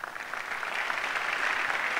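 Audience at a stage celebration clapping in a continuous dense burst that swells slightly, loud and sustained.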